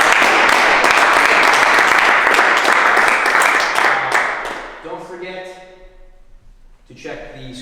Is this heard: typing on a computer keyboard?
no